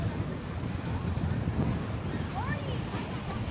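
Waves roll in at a Punta Cana resort beach in a steady, loud wash of surf with wind noise against the microphone and no talking.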